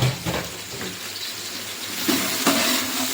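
About four large chopped onions fry in a pan for a vegetable kurma, a steady close sizzle with scraping stirs and a few clanks of the utensil against the pan, no talk.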